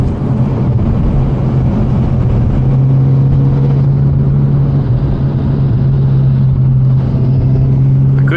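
A passing car drives along a street in a continuous low rumble of engine and road noise, with a steady droning hum running throughout.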